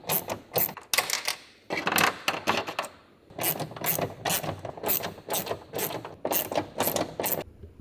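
A ratchet with a 10mm socket spins out Audi Q tailgate panel screws, its rapid clicking pawl coming in several close, loud bursts separated by short pauses.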